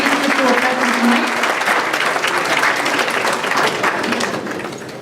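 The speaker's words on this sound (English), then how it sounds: "Can we give you another round of applause for all the principals" Steady, loud applause from an audience at a school board of education meeting fills the whole stretch, fading slightly at the very end.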